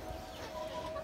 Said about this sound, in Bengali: এই তো দেশি মুরগি আসলে আমাকে দেখা মাত্র এরা চলে আসে